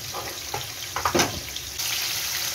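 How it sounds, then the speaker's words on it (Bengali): Potato pieces rubbed with salt, turmeric and chili powder fry in oil for chicken biryani, a constant hiss with a few wet bursts and clatters partway through, then a fuller, louder sizzle. "আলুকে ভেজে নেব"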